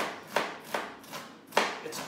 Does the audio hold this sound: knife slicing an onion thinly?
yes